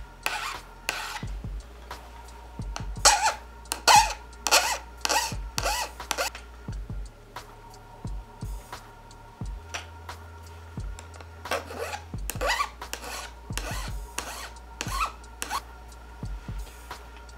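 A file rasps against the pick of an ice climbing tool in a series of short, close scraping strokes, coming in quick bursts with brief pauses between them.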